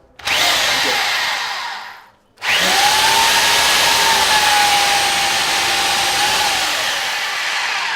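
A Ryobi 3 Mode SDS drill whirs at a steady high pitch, winds down and briefly stops, then spins up again and runs continuously, loud and close with no talk.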